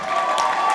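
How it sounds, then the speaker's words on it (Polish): A crowd at a combat sports gala applauds and cheers for the winning fighter after a technical knockout, a brief, loud burst of clapping and shouts. "Wielkie brawa!"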